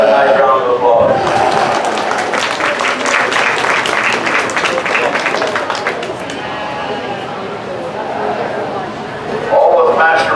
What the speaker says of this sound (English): I think all of them deserve another nice round of applause.